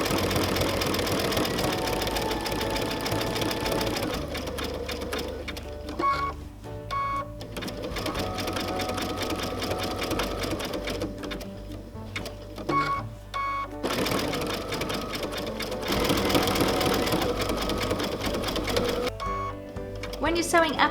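Domestic sewing machine running a zigzag stitch around a raw-edge fabric appliqué, a rapid mechanical whirring and clatter in bursts with short pauses, close and steady, with someone talking over it.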